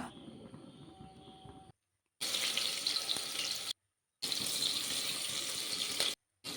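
Water pours into a pressure cooker holding rice in three splashing bursts separated by short silences, the later pours louder and brighter than the first, with no voices.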